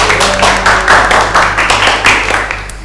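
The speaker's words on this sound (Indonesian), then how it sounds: "Berikan tepuk tangan untuk kelompok 2." Classroom clapping for a student group after its presentation: a loud, close burst of hand claps with uneven rhythm that rises and falls across a few seconds, from a small group of students.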